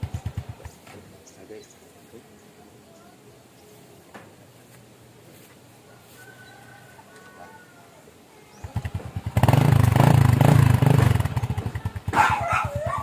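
A motorcycle engine starts up and idles to warm, a loud steady rumble that swells after a quiet stretch with people talking and birds faintly audible.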